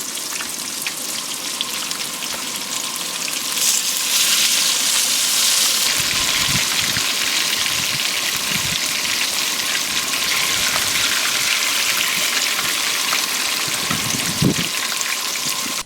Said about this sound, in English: I'm going to go ahead and add the onions in, and then I'm just going to cook them until these onions are nice and limp